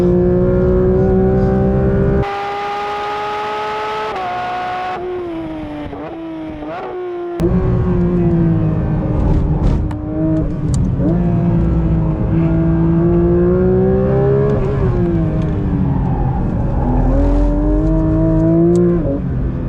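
A Porsche 992 GT3 RS engine revs hard on a race track lap, loud and close, its pitch climbing and dropping through repeated gear changes, with a brief lull mid-lap before the howl returns at full throttle.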